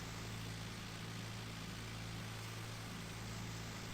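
A 66-horsepower tractor engine in Farming Simulator 19 runs with a steady, low, quiet drone and no variation in pace.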